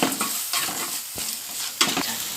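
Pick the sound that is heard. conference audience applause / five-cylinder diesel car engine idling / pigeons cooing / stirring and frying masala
stirring and frying masala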